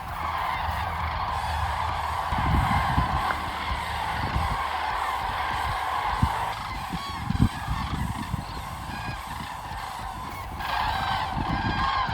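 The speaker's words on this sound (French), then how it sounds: "Журавли, кстати." Migrating cranes in Russia calling in autumn, loud honking cries repeated in irregular bursts over a steady background of many birds, with no talking.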